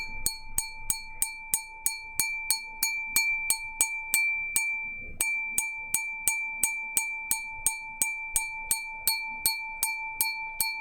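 Glass struck with steady, evenly spaced light taps, each giving a bright ringing chime with a sustained tone, close and clear in a quiet room, repeating about twice a second with one brief pause.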